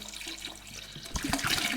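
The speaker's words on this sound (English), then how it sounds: "I'm going to take a full 5 litre bottle of water and just dump it into it" A full 5 litre bottle of water being dumped into a homemade country wine mixture, a gushing, splashing pour that builds into a louder rush toward the end.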